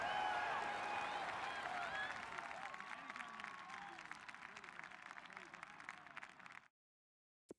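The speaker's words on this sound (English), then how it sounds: "The crowd getting into it as we come up on a big 3rd down" A stadium crowd in a Madden NFL video game roars and applauds in a dense, sustained swell during a fourth-quarter drive, fading gradually before cutting off, with commentator talk faintly beneath.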